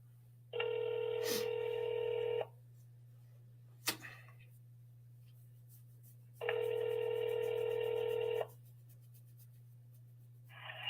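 A phone call rings out over the line: two long electronic ringback tones separated by a pause, with a third starting at the end, over a steady low hum and a couple of faint clicks. No one speaks.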